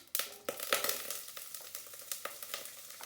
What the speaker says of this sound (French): Je mets l'oignon dans la marmite jusqu'à ce qu'elle devienne translucide, l'oignon.